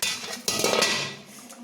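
A metal lid lifted off a pot of potol paneer curry cooking on a wood-fired clay stove makes two close, sharp clanks followed by a fading bubbling hiss.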